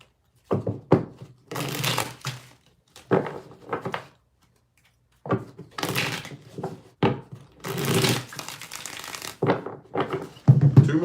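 Tarot cards being shuffled by hand in a series of separate bursts of riffling and slapping, close and fairly loud, with short pauses between shuffles and no talking.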